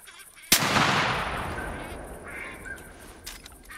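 A single sharp shotgun blast rings out in theHunter Classic during a bayou duck hunt, followed by a long decaying echo, with faint duck-like calls afterward and a brief later tap.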